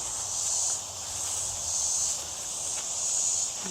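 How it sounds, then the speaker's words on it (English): Cicadas sing outdoors at the raw building site of an earth-sheltered house, a steady high buzzing that swells and fades in slow waves, alone and moderately loud. "The cicadas will sing you a little song."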